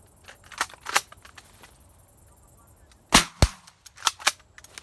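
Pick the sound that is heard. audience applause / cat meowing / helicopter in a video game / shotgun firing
shotgun firing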